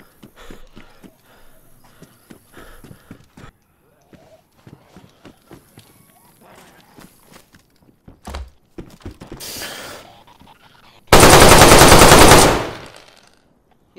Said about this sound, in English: So I think there's still a team shooting in that Brenner.